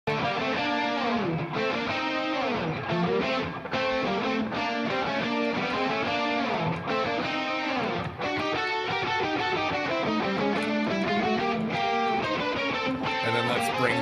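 Distorted reamped electric guitars from a rock track, playing alone in a thick, loud, sustained wall of chords with shifting riffs and brief gaps between phrases.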